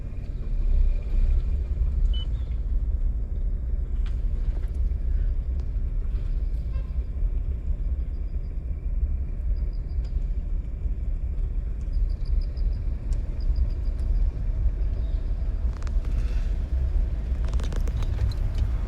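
A car creeps forward during a driving lesson with a low steady engine rumble and road noise throughout, a faint horn toot in the distance, and no talking.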